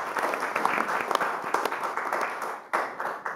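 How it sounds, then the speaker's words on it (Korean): Audience applause at a Democratic Party leadership candidates' debate, a brief burst of clapping from a seated crowd with scattered individual claps standing out, fairly soft and steady before a short pause and a resumed patter. "박수 부탁드립니다"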